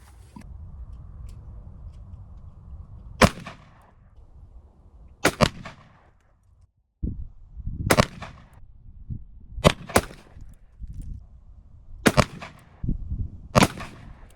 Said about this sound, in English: So I got 3 shots right here, pretty nice little group.